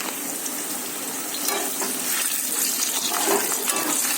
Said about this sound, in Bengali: এই যে আলু ভাজা চলছে এখন।